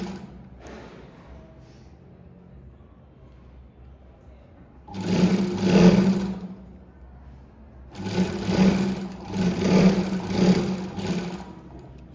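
A sewing machine runs in two bursts while stitching a blouse, each a steady mechanical whir at moderate loudness with a quiet pause between them.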